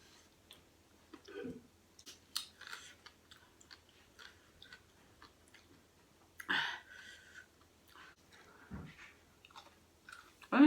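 Someone eats spicy som tam papaya salad with about thirty chillies, giving faint close chewing, crunching and mouth clicks between quiet pauses, with some low talk.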